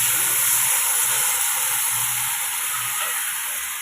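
Water hits a hot pan of cooking mushrooms, giving a loud, steady hissing sizzle with rising steam that fades slightly toward the end, close by and with no voices.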